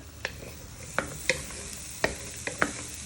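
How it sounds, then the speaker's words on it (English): Garlic frying in a pan for ratatouille, stirred with a wooden spoon: a soft, steady sizzle broken by about six sharp scraping strokes at uneven intervals, close by, with no talking. "You just want to give them a little bit of a fry so they start to get colour on them"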